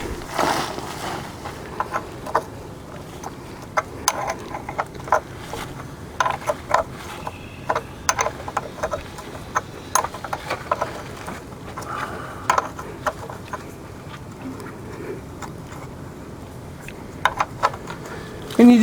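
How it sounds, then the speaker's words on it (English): A wrench snugs the oil drain bolt back into the oil pan of a 2002 Dodge Caravan, giving faint, irregular metallic clicks and ratcheting taps close by over a low background hum. "And we're going to wrench it on."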